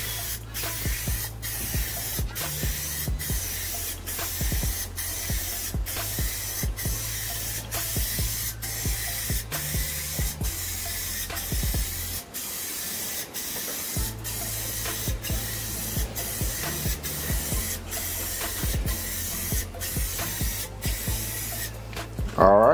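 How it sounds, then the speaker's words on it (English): Rust-Oleum Gloss Black spray paint hissing from an aerosol can in a long run of short, evenly spaced bursts as a quick, even, overlapping coat goes onto a shadow box piece, close and steady with brief pauses. "Now we're gonna hit it with a coat of Rust-Oleum Gloss Black."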